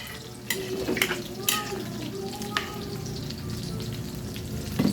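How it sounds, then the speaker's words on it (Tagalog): Corn and bitter melon (ampalaya) boiling in a pot, a steady bubbling and sizzling simmer with a few sharp clinks and splashes, close and continuous. "Pakuluin ko muna, siyempre."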